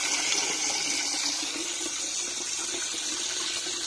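Water runs steadily from a tap fitted at a work site where a tractor is being modified, a continuous close hiss and splash with no breaks and no talking.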